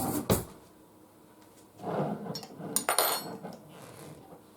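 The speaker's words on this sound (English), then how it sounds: "Let me get myself another spoon." A metal spoon clatters against other cutlery in a home kitchen, a sharp clink at the start followed by softer rattling and handling clatter, close and moderately quiet, with no talk.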